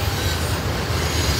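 A train rolling past at Long Bridge Park in Arlington, Virginia, a loud, steady, close rumble of rail noise filling the whole short stretch.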